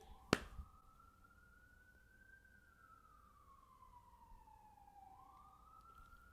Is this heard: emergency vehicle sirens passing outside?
yes